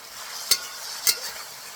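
Chicken with cashew nuts being stir fried Cantonese style in a pan, two sharp scraping clacks of the utensil against the pan about half a second apart over a steady low sizzle.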